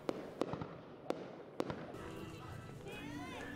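New Year's Eve fireworks in a Vietnamese town: several sharp bursts go off in the first two seconds, followed by crowd noise and a voice talking.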